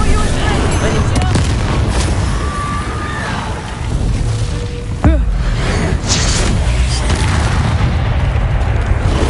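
A fire spell is cast in a magic-themed video game: a sudden whooshing burst with a rising tone near the middle. It sits in a dense, steady bed of game effects and speech.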